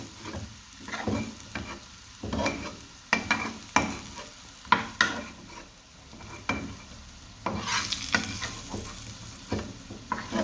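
Ingredients for a chicken vegetable stew frying in oil in a pan, a continuous sizzle broken by repeated scraping stirs and spatula knocks, close and with no talking.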